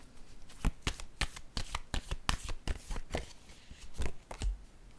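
Tarot cards being shuffled by hand, a rapid run of close, crisp riffling flutters and slaps repeating steadily for several seconds with no talk.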